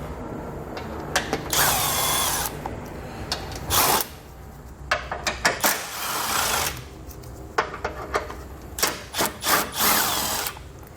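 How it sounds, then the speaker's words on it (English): Bursts of tool noise come from a 10mm socket removing seven bolts that hold the lower fascia lip to a vehicle's core support. Short and longer runs repeat in irregular spurts, close and fairly loud, with no talking. "we're going to take a 10mm socket. We're going to remove these 7 bolts here"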